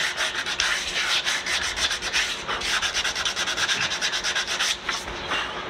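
Hand sanding a round-over edge on Sapele wood, a rapid rhythmic back-and-forth scratchy rubbing, close and loud, continuing steadily with no voices.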